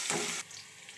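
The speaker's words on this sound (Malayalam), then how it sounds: "എണ്ണ ചൂടായി വന്നിട്ടുണ്ട്. ഇതിലേക്ക് നമുക്ക് ചതച്ച് വെച്ചിരിക്കുന്ന വെളുത്തുള്ളി, ഇഞ്ചി ചേർത്ത് കൊടുക്കാം" Crushed garlic and ginger hit hot oil with a short, loud sizzle that drops to a softer frying crackle, close up and with no talking.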